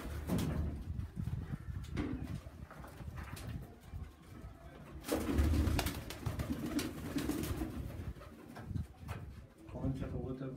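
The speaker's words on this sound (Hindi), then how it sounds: "राजा साहब के कबूतर" Large champion flying pigeons belonging to a raja coo in low, throaty bursts through most of the stretch, with people talking nearby over and between the calls.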